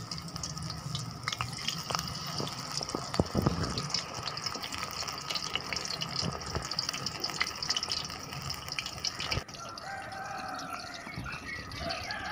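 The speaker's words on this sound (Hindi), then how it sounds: "जब घी फुल गर्म हो जाए तो उसके बाद आप एक एक करके इसमें रिंग डालते जाएं।" Apple rings dipped in batter fry in hot ghee, giving a steady, fairly quiet sizzle and crackle with scattered pops and bubbling, with no voices heard.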